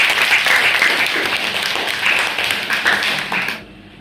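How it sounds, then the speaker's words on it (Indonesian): Students in an Islamic studies classroom applaud a student group, a lively burst of many hands clapping close by that stops abruptly near the end. "tepuk tangan dari kelompok hasad"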